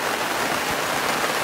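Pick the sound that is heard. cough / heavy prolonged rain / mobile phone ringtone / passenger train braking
heavy prolonged rain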